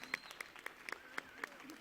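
Scattered applause from a gala audience at a centennial anniversary celebration for volunteers and staff, sparse sharp claps and a few whoops at moderate distance.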